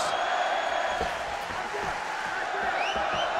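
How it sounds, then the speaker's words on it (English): An arena crowd rises and cheers for a hometown fighter at a mixed martial arts bout, a continuous, fairly loud roar with scattered shouts and faint whistles under the ambience. "As the crowd rises to support their hometown fighter once again."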